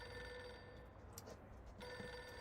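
Telephone ringing in the video game Reverse: 1999, a faint trilling bell under a dense, loud music bed, the ring briefly breaking off midway before resuming.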